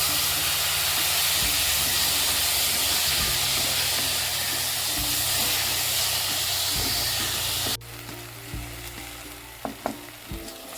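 Tomatoes sizzle and fry in oil in a pan while a spicy mutton fry is cooked, giving a steady loud hiss with occasional stirring clatter, which drops to a quieter sizzle partway through.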